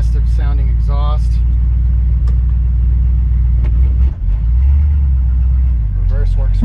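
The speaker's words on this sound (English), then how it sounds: "Reverse works well." A 1954 Chevy 3100 pickup truck rolls in reverse with a steady low engine rumble and a brief dip and surge midway, with someone talking at the start and end.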